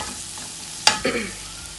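Chopped onion with turmeric and spices frying in a pan for prawn chilli fry, with a soft steady sizzle broken by one sharp spoon scrape and a brief louder stir, close and without talk.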